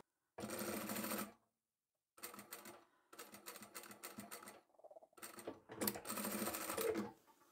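A sewing machine back-stitches the mitred corner of a quilt in four rapid bursts of stitching separated by short pauses, close and clear with no talk.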